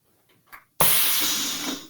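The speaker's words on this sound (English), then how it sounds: "So she'll spray a mist of water out of her mouth." An animatronic haunt creature sprays a mist of water from its mouth: after a moment of near quiet, a sudden loud, steady hiss starts and holds, fading only slightly toward the end.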